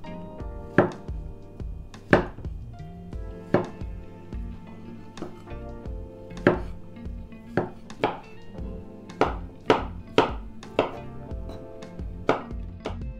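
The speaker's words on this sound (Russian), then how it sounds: "Грибочки я буду резать ну, не очень мелко" Champignon mushrooms being sliced with a knife on a board, a series of crisp, moderately loud chopping taps at an irregular, unhurried rhythm, heard close up with no talking.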